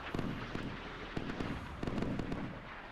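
P-1000 anti-ship missiles launching in the Sea Power naval video game: a faint, distant series of sharp pops and crackling bursts over a low rumble, repeating irregularly throughout.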